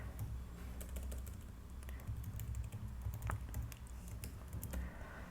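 Password typed on a computer keyboard: a run of quiet, irregular key taps clicking continuously over a low background hum.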